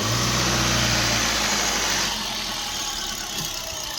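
A 2012 Hyundai i10 Sportz petrol hatchback engine runs loud at first, then drops to a quieter steady idle about halfway through, close by with no talk.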